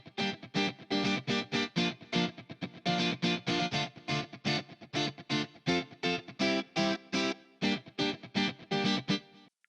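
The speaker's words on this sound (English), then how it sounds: "I added this guitar from Sparkle" Electric guitar part from the Sparkle sample pack, chopped into rhythmic, evenly spaced strummed chord stabs with a distorted, chorus-tinged tone, loud and alone.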